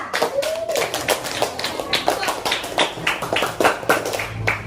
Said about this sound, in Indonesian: Ayo nak beri tepuk tangan untuk kelompok Zara